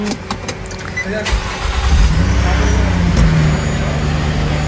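A car engine cranks and starts after battery trouble, settling into a steady idle with a few clanks early on, loud and close, with someone talking over it.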